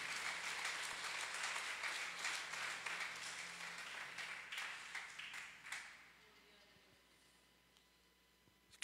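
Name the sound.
congregation clapping in church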